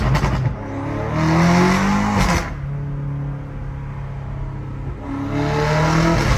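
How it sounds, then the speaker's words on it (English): Straight-piped BMW M car exhaust revving loudly in a city, rising and falling engine pulls in a couple of strong bursts with a steadier idle-like drone between them. "It's stupid loud, bro. This car is stupid loud."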